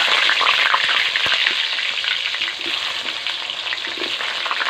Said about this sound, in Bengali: আলুগুলোকে হালকা আঁচে লাল লাল করে ভেজে নেব।